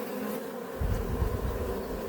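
Honey bees buzzing around a beehive frame, a dense continuous drone swelling louder partway through, close by with no talk.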